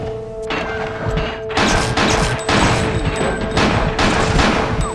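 Loud bursts of rapid gunfire crackle and thump in a PS1-era video game, coming in several dense volleys separated by brief gaps.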